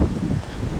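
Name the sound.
wind blowing outdoors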